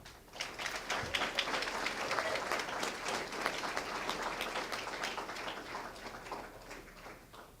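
Sustained applause from an audience honoring distinguished alumni at an evening awards ceremony, dense steady clapping filling the hall and holding at an even level throughout.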